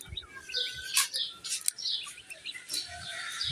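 Quail birds chirping in short high-pitched bursts and trills, several close calls scattered across the moment with brief gaps between them.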